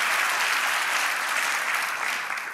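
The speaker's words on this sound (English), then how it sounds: "Come on, give him a good hand clap" A church congregation gives Pastor Tim a warm round of applause, dense sustained hand clapping from many people that holds steady and then begins to taper off at the end.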